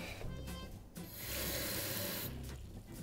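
Water pours from a tap over cashew nuts set to soak in a kitchen, a steady close gush of about a second and a half between quieter handling sounds.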